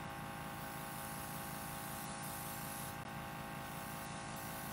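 Colour is sprayed gently onto a cake board from an airbrush-style sprayer, producing a soft, continuous hiss that is faint and steady throughout, with no talking.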